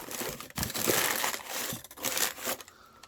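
Packing paper crumpled by hand while wrapping an alarm clock for shipping, with several loud crinkling bursts close by and short pauses between them.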